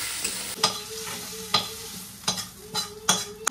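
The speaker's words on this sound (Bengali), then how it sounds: "কিছু একসাথে মিক্স করে একটু ফ্রাই করে নেব অল্প সময় নিয়ে" Turmeric and chili powder spice masala frying in a pan, stirred with a spoon that scrapes and clinks in irregular strokes over a steady soft sizzle, close and alone.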